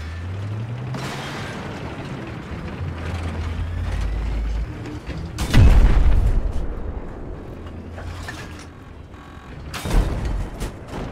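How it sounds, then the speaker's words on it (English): Giant explosions from the Battlefield 4 campaign boom through a low rumbling battle backdrop, with one heavy blast near the middle and another later, loud and close, alongside creaking mechanical noise. "Especially when you have giant explosions going off like this."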